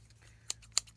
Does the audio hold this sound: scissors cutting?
yes